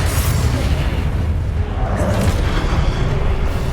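Confringo fire-blast spell explosions in the wizarding game Hogwarts Legacy, a loud, sustained booming roar with heavy low rumble and no distinct pauses, while a voice speaks over it.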